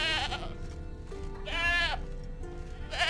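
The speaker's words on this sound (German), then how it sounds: "Ich höre eine Ziege." Tethered goat in The Witcher 3 bleating repeatedly, with three wavering bleats spaced about a second and a half apart, clear and close over a low ambient game soundscape.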